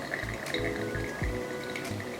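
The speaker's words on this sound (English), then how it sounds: "That water is just flowing very quickly." Water poured from a kettle into a CAFEC Deep 27 pourover coffee dripper, a steady close trickle and splash running throughout with a few faint clinks.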